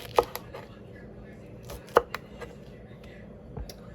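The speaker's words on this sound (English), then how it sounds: "I begin slicing" Knife slicing fresh okra on a cutting board, a few sharp isolated chops spaced apart with quiet handling sounds between, close and clear.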